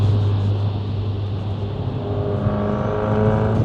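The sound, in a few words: car engine accelerating with turbo whistle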